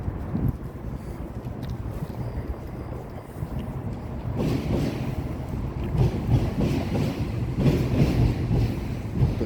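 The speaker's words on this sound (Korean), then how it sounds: "7호선을 지하철이 지나가고 있네요." A Line 7 subway train rumbling past outdoors, a continuous low rolling roar with rattling that grows somewhat louder over several seconds, heard from nearby without talking.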